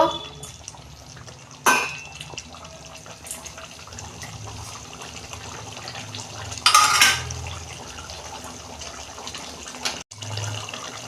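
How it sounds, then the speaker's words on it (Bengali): A metal lid comes off a cooking pot on a low gas flame while cauliflower simmers, giving two brief clanks with a soft watery background in a home kitchen. "এই যে বন্ধুরা দেখুন, আমি ঢাকনা খুলছি।"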